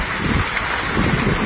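Heavy monsoon rain falls steadily in Abohar, a dense, even hiss of downpour that holds at the same loud level throughout with no break.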